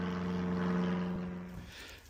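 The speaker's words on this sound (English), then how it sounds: "we're next to an airfield, so we're getting a constant overflow of airplanes" Steady propeller-aircraft drone with a strong low hum from a plane flying overhead near an airfield, fairly faint and fading as it passes, no voices present.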